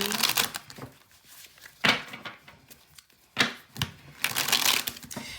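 Tarot cards riffle-shuffled close up in repeated crisp bursts of papery clatter, with quieter card handling between them and no talk.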